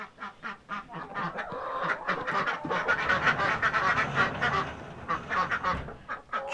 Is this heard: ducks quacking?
yes